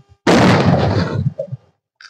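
A single loud firecracker blast goes off close by during Diwali in a village, a sharp bang with a rumbling tail that fades over about a second, followed by faint crackles.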